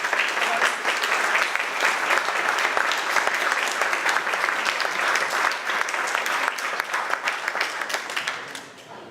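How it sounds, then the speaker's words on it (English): An audience at a Berlin conference on Syria breaks into loud, sustained applause, dense continuous clapping from a large crowd that carries steadily before tapering off at the end. "So I want to clap for all of you."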